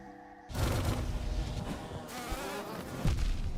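Bees in the Hollow Knight video game buzz in a dense, loud swarm that starts abruptly and holds steady, with a brief burst of impact near the end.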